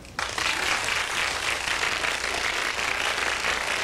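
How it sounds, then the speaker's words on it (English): Studio audience applause, a dense, steady wash of clapping that starts abruptly and holds loud and unbroken for nearly four seconds. "Sometimes applause is the best medicine."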